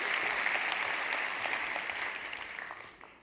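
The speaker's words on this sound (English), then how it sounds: "Give him a round of applause." An audience at a talk gives a round of applause, a steady bright patter of many hands that holds and then fades away at the end, with no voices over it.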